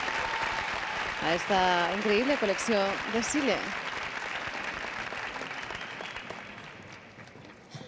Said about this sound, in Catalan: L'aplaudiment del públic de l'Àgora